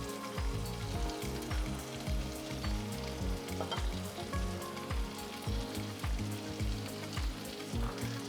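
Boiled eggs go into hot oil and cooked tomato curry, which sizzles and crackles steadily at close range, with soft thuds and stirring clinks over a continuous frying hiss.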